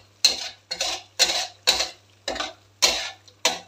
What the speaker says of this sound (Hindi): कलेजी बहुत अच्छे तरीके से फ्राई हो चुकी है